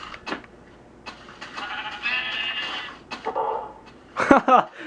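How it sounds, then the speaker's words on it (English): Minecraft sheep bleat in a few short wavering calls among other quiet noises, the loudest bleats coming near the end. "Shut up, sheep."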